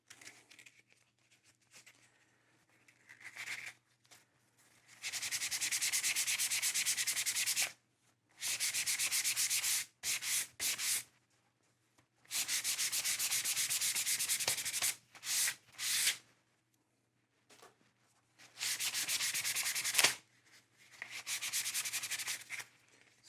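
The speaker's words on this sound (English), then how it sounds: "now we're going to go back to the sandpaper" Sandpaper rubs over vegetable-tanned leather in several separate bursts of brisk, raspy scrubbing, each lasting a few seconds, with quiet pauses between them and no voices.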